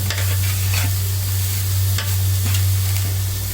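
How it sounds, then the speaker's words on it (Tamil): Grated carrot is stirred and sautéed in ghee in a pan for carrot sago kheer. A loud, steady sizzle runs under repeated scraping stirs at irregular intervals, over a constant low hum. "நல்லா ஒரு அஞ்சு நிமிஷம் வதக்கிக்கலாம் நெய்யிலே வதக்கிக்கணும்"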